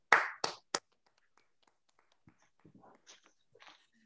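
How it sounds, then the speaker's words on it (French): A few quick claps through unmuted microphones in an online video meeting, three short bursts at the start, then near-silence with faint scattered murmurs and small noises. "Merci d'ouvrir vos micros pour applaudir ce début de Marco Piermartieri"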